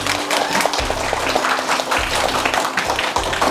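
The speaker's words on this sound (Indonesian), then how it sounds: "Tepuk tangan untuk kita semua" Schoolchildren at a primary school clap together in a classroom, loud near applause running in uneven bursts for a few seconds, with a little background voice.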